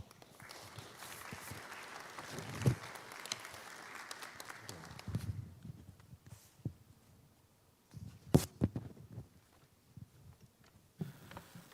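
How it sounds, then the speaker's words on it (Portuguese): Audience applause at a talk on carbon emissions in Canoas, welcoming a speaker on stage; a broad, moderate clapping wash fills the first five seconds, then fades to scattered handling noise and rustle with a few sharp knocks. "recebendo o nosso aplauso"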